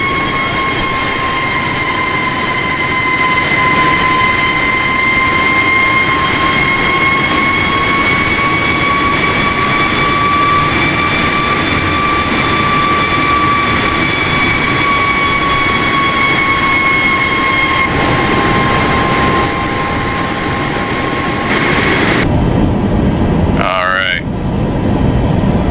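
Airliner engine at cruising altitude, a steady loud jet drone with a constant high whine that barely shifts, running unbroken throughout, with a brief change in tone near the end.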